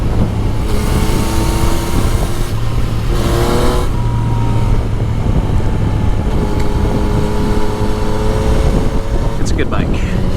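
Motorcycle ride with steady engine drone and heavy wind rush throughout, a continuous loud roar with slight pitch shifts as the bike changes speed.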